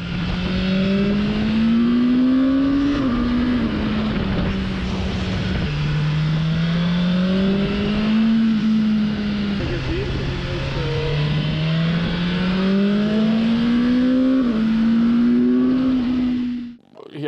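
A BMW S1000R motorcycle in Dynamic mode ridden in first and second gear, its engine note climbing steadily and then dropping at each gear change, loud and close for the whole stretch.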